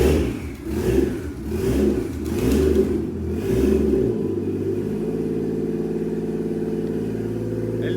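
Toyota Chaser engine firing up for the first time after a swap from automatic to a six-speed manual gearbox, rising to a loud, steady idle with uneven revving at the start.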